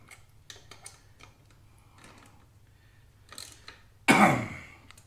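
Tightening a bolt on the drive of a Kymco Agility 50 scooter while refitting the gear and Kevlar drive belt: scattered faint metallic ticks and ratchet-like clicks, then one louder scraping burst near the end.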